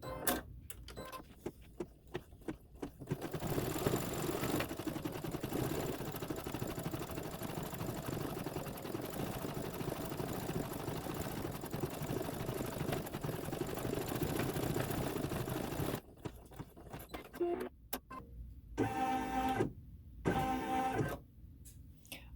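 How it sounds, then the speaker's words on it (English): An embroidery machine stitching sparkly white opal thread on a Christmas quilt block: a steady, close mechanical whir with rapid needle chatter that runs for about fifteen seconds, with bursts of clicking and motor hum before and after. "Let's stitch that out."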